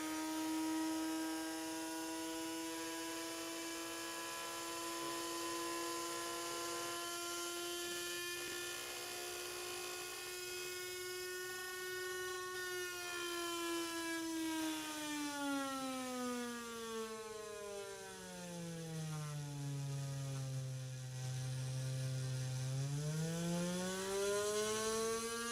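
A high-speed electric motor driven at 12 volts and slowed by an inductive load whines steadily near 50,000 RPM, its pitch sagging then sweeping back up, loud and close with no talk.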